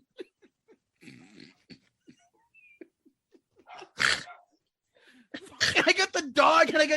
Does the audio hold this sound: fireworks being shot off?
no